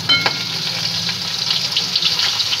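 Katla fish head fries in hot oil, giving a loud, continuous sizzle with busy bubbling crackle close by, steady throughout with no talk.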